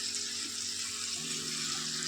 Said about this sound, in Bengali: মিক্সির জারটার মধ্যে একটু লেগেছিল, তার মধ্যে একটু জল দিয়ে সেটাও আমি এর মধ্যে দিয়ে দেবো